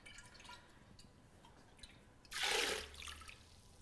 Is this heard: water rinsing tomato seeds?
yes